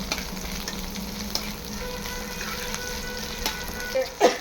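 Chopped green chilli and grated ginger frying and being stirred in a pan, a steady close sizzle with scraping stir strokes and a few sharper clinks near the end, no voices.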